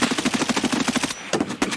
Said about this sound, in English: I have a meta M4, just mag dump him